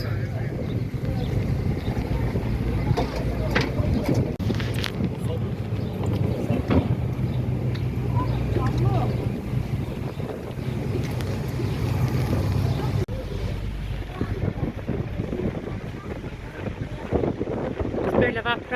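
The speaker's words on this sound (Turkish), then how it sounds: "biz bu vapura bineceğiz. Karşıya geçeceğiz." An Istanbul passenger ferry at the Üsküdar pier, with a steady low engine and water rumble plus wind buffeting the microphone throughout, while a person talks over it.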